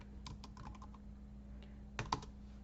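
Quiet, irregular keystrokes on a computer keyboard, with a short burst of louder clicks near the end over a steady low hum.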